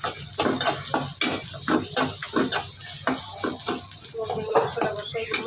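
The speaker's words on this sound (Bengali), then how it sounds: "কড়াই দিয়ে পেঁয়াজ আর কাঁচামরিচ দিয়ে দিলাম।" Onions and green chillies fry in a kadai with a steady sizzle, while a spatula scrapes and clinks against the metal in an uneven rhythm close by, and a voice talks over it.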